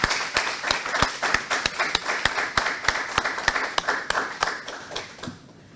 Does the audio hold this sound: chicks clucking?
no